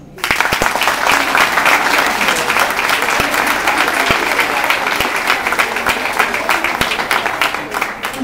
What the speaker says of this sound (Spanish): todas las que están aquí se merecen un gran aplauso